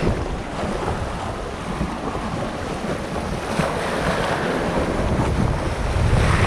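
Strong sea current and waves along the shore at Barangay Subay, a constant rushing surge with heavy wind buffeting the microphone, loud and churning throughout.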